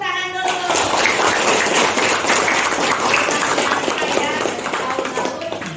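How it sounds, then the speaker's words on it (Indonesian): A class of students applauding together, a dense burst of clapping that swells quickly and holds steadily for several seconds, close and lively. "Tepuk tangan dulu."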